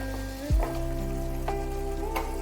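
Water splashes into a simmering chhena and green pea curry in a pan, a brief thick pour followed by steady bubbling and a few soft pops, close and alone.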